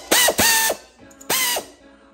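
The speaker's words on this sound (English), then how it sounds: "Now our air tool helped speed up this process" A pneumatic air tool drives down bolts on a miter saw and radial arm saw station, giving three short, loud mechanical ratcheting bursts close by, the last one after a brief pause.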